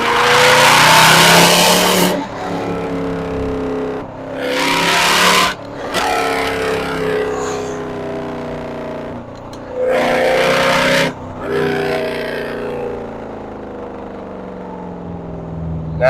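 A Mercedes C63 accelerates hard through traffic, its loud engine note rising and falling through repeated gear changes over about sixteen seconds, with bursts of higher-pitched roar between shifts.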